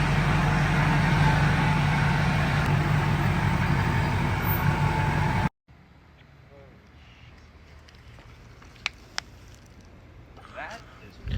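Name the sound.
Duramax diesel truck engine idling with new injectors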